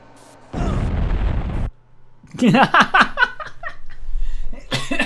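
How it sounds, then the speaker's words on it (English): A CRT monitor bursts in The Thing video game, a short loud crackling blast lasting about a second, followed after a brief pause by a person laughing and speaking over quieter game sounds. "Oh, the good old CRT explosion."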